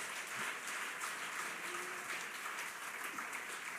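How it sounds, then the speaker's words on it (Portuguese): Sustained applause from a church congregation during a sermon, steady and dense throughout with no pauses. "Aplauda forte a Jesus."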